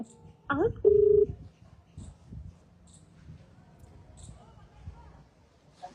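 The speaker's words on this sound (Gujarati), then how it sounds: "ફોન કાપે છે ભાઈ, વાંધો નહીં, ફરી લગાવશું." Near the start, a telephone gives a short pair of dialing beeps, loud and close. Faint murmuring and soft thuds follow in a quiet room.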